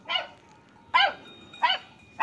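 A dog barks four times in separate sharp barks, evenly spaced and close by, over quiet background hiss.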